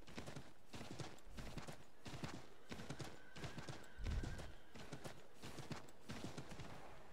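Horse hooves clip-clopping in the video game Assassin's Creed III, a steady rhythmic trot of repeated beats with a brief louder thud midway and some faint background game noise.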